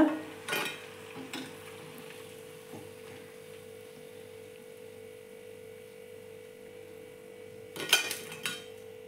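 Urad dal sweet vadas frying in oil over a medium flame give a steady low sizzle, with a few brief utensil clinks and scrapes near the start and end.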